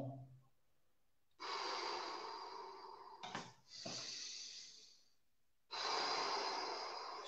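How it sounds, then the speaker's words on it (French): Slow, deep abdominal breaths in a calm breathing exercise: long, airy inhales and exhales close to the mic, separated by quiet pauses. "Récupère jusqu'à temps que tu sois capable de faire des lentes respirations profondes, abdominales,"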